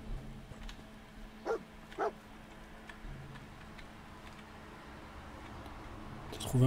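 A dog barks in the post-apocalyptic wasteland of the video game Fallout 4. Two short, fairly faint barks come about half a second apart over low ambient game noise.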